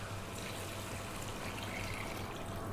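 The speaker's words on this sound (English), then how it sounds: "we're gonna add some liquid. Now I'm using a stock, I'm using chicken stock." Chicken stock poured steadily into a cooking pot for lamb and rice, a continuous soft liquid trickle and splash with no talking.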